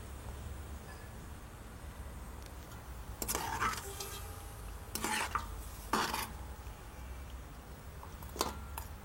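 A spoon stirs seasoned meat in a cooking pot, scraping in a few distinct bursts over a steady low background hum.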